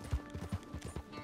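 Horse hooves in Red Dead Redemption 2 clip-clop in a steady, quick rhythm of thudding beats, fairly close and moderately loud, with no talking over them.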